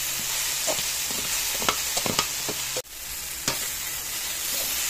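Tofu (tokwa) sizzles steadily in a pan with adobong kangkong while a utensil stirs it, giving a constant frying hiss with brief clicks and scrapes and one short pause in the sizzle midway.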